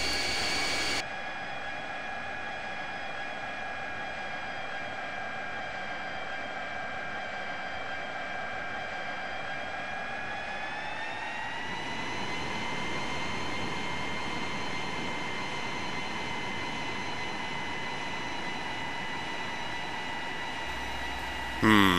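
A fixed-wing aircraft's jet engine whines steadily while the plane taxis, a loud sustained tone that rises in pitch partway through as power increases, heard close from inside.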